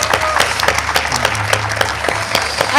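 Lively applause from an event audience greets a Korean dance academy and a San Francisco taiko dojo at a heritage month kickoff, with sharp individual claps standing out over a steady low hum from the venue.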